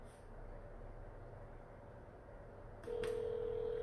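A phone rings on an outgoing call, a steady tone starting near the end over quiet room noise.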